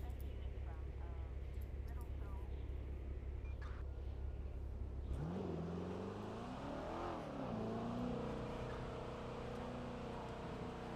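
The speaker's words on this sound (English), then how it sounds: "Did that car flip on me just to drive past?" In a video game a car drives past, its engine rising in pitch as it nears and sweeps by, then settling into a steady hum, with a person talking over it.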